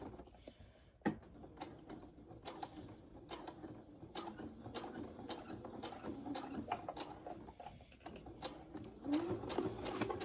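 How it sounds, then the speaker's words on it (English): A sewing machine with a 90/14 needle and 2.5 stitch length stitches vinyl for a zipper pouch, giving quiet, steady mechanical clicking and ticking with sharper ratchet-like taps throughout. "I'm going to sew it at a 1/4 inch seam allowance"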